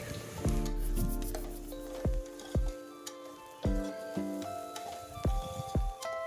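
Dal khichdi with red chili, coriander, cumin and garam masala is sautéed and stirred in a pan, giving a soft frying sizzle under repeated scraping strokes and clanks of the spoon.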